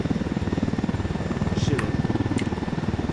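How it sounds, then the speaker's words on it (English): Helicopter in the video game Ghost Recon Wildlands, its rotor thumping in a fast steady pulse with a constant engine drone, heard from the passenger seat in the back, with brief higher chirps of game sounds. "flying the helicopter and I am sitting in the back"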